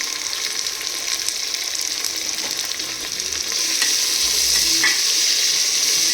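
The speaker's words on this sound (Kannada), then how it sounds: "ಚೆನ್ನಾಗಿ ಫ್ರೈ ಆಗಬೇಕು, ಗೋಲ್ಡನ್ ಬ್ರೌನ್ ಆಗೋ ಥರ ಫ್ರೈ ಮಾಡ್ಕೊಬೇಕು." Onions frying in a pan at close range, a loud continuous hiss and crackle of hot oil that swells slightly toward the end, with no talking.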